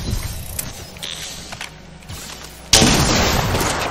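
Video game gunfire aimed at the player: scattered sharp shots and mechanical clatter, then a sudden loud burst of noisy firing that keeps going to the end of the clip.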